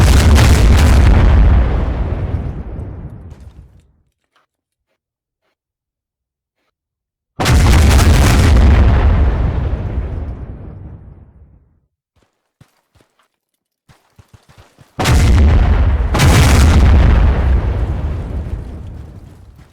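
Artillery barrage in the video game Foxhole: three massive, booming shell blasts, each roaring and slowly decaying over several seconds, separated by near silence with a few faint clicks and footsteps.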